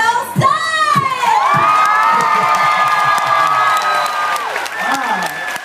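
An audience of children and adults welcoming author R.L. Stine, a loud burst of shouting, whooping and cheering with applause underneath that swells and holds, sustained high-pitched cries ringing over the crowd.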